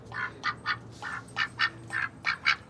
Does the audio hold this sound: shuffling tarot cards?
no